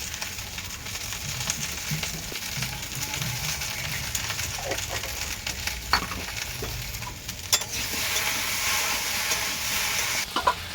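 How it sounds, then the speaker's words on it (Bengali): Potato and okra fry in a pan with a continuous sizzle, broken by occasional stirring scrapes and clicks. The frying hiss grows louder toward the end. "আলু ভেন্ডিটা কিন্তু ভেজে নিয়েছি,"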